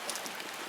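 Steady rain on a late October morning at a fort in Fort Kent, Maine: a soft, even hiss of falling drops, with no voices.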